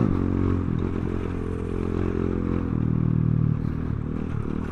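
A 2021 Kayo K2 230 dirt bike with a 5-speed transmission drones steadily up close while riding, its engine note holding a continuous rough, throaty buzz.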